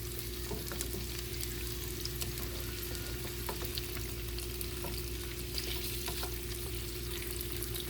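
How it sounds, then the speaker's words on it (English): Asparagus stalks, each laid out separately, fry in a pan over medium heat, giving a steady close sizzle dotted with small crackles and pops, with no talking. "I'm cooking this on medium heat. And I'm laying each stalk out individually."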